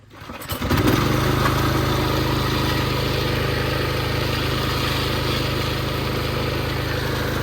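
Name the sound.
engine started up and running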